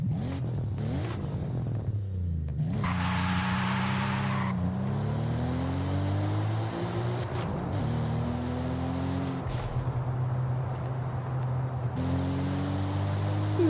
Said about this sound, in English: that sounds like an inline 6